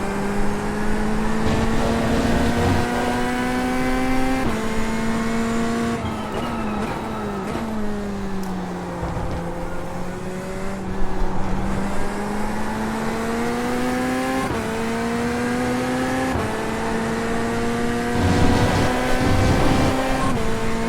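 A Chevrolet Corvette Z06 GT3.R race car in a racing game, its engine droning loud and close, pitch climbing through the gears with brief dips at each shift and a long sweeping fall and rise through corners.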